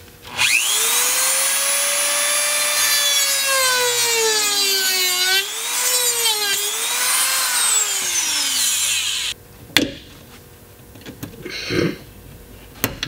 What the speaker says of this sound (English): you can do it the dangerous way and use a Dremel like this